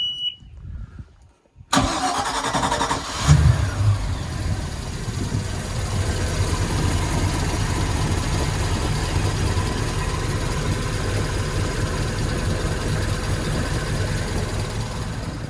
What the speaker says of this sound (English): So let's just fire the engine up again.